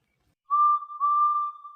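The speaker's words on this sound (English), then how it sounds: "The guard blew his whistle, and they pulled and pushed as hard as they could." A railway guard blows a whistle at a station: two sustained shrill blasts, the first short and the second longer, loud and close, with no talk.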